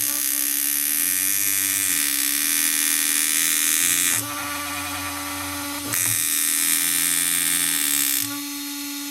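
A small electric motor driven by a BLX 100 ESC with a green-flash fault whines steadily at a high pitch, its tone shifting and dipping in a few stages as the test runs.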